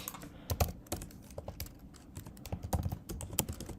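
Rapid, uneven keystrokes clatter on a computer keyboard as code is entered, a close, steady stream of clicks with occasional louder key hits and no talking.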